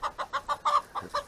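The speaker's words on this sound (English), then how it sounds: "Rooster on rooster action, fighting." Roosters fighting: quick, regular, agitated clucking bursts, about eight sharp calls in a row, close by.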